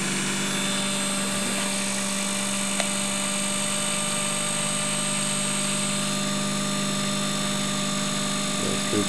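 The rotor of a dual-break rotary spark gap prototype spins steadily at 2000 RPM, giving a constant mechanical whine and hum, close and alone for about nine seconds.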